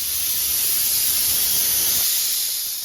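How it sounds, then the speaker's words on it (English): Steady compressed-air hiss leaking from an old coiled air line that feeds a 4-post lift, a loud continuous rush with no pauses, the low rumble beneath it dropping away near the end. "I could hear this hissing noise from outside"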